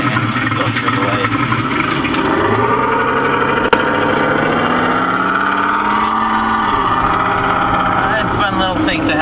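Simulated muscle car engine note from a Sound Racer device in a Pontiac Grand Am, a loud continuous rumble that rises and falls in pitch as it idles, downshifts and pulls away, with music or voice underneath.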